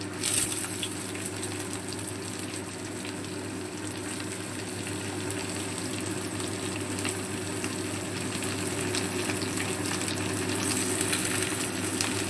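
Cauliflower stalks, radish and potato frying in mustard oil in a pan, a steady close sizzle and bubbling hiss that holds evenly throughout with no talking.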